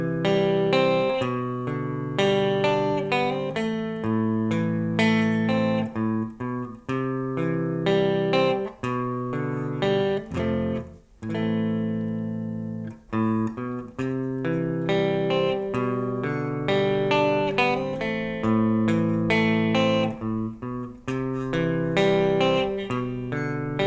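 Rhythm guitar part of a song, played with hammer-ons: continuous strummed and picked chords with quick note changes, steady and close, alone without any talking.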